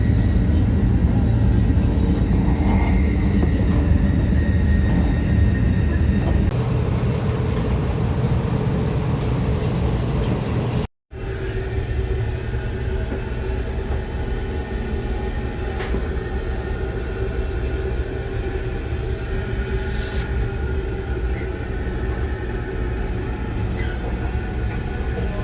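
Steady interior rumble of a Taiwan high-speed bullet train running from Kaohsiung to Taipei, a continuous low roar with faint higher whine, unbroken except for a brief dropout midway.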